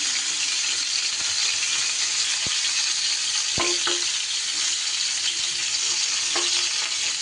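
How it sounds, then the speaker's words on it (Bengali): Slices of pointed gourd (potol) fry in a pan with a constant bright hiss and crackle, broken by a few sharp scraping clicks as the spatula stirs them. "আরও অল্প সময় একটু পটলটা নাড়াচাড়া করে ভেজে নেব।"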